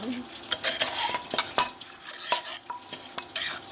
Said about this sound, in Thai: โคเลให้ น้ำตาลปี๊บละลายนะคะ